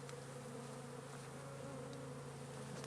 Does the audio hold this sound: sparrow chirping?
no